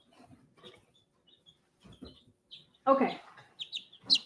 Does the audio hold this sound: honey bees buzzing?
no